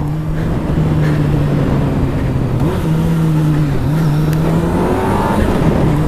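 A motorcycle fitted with a quiet stock exhaust cruises at moderate speed, its steady low engine hum rising and dipping slightly with throttle changes, close and continuous without talk.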